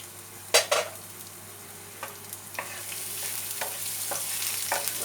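Chopped garlic hits hot oil in a shallow pan for garlic prawns, giving a loud initial burst of sizzling, then a steady frying hiss with a few scraping stirs.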